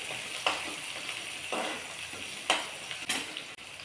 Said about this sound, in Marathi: हे चांगलं तडतडायला लागले की आपल्याला त्याच्यामध्ये कांदा घालायचा